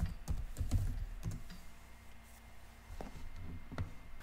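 A password is typed on a computer keyboard during a Debian 10 package install, a quick burst of close key clicks followed by a short pause and a few more spaced taps.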